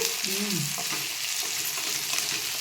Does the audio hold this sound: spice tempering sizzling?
yes